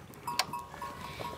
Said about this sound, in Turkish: Keçiler burada. Kıl keçisi sende var.